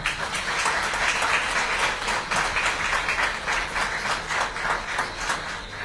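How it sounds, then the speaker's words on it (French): A crowd of elected officials, supporters and families applauds steadily at the presentation of the 2024 Guadeloupe cycling tour, a dense and even wash of clapping that holds throughout. "je vais vous demander s'il vous plaît de l'applaudir très très fort"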